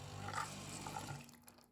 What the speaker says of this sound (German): Jetzt werden alle Leitungen automatisch gründlich mit heißem Wasser durchgespült.